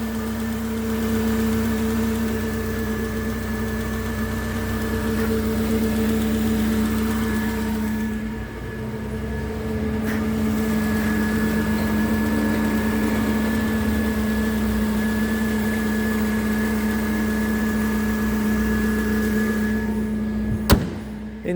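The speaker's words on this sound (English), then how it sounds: "V8 Jaguar, engine in there" A 1997 Jaguar XK8 convertible's V8 engine idles steadily for a long stretch, a low, even rumble with a constant hum and a faint click near the end.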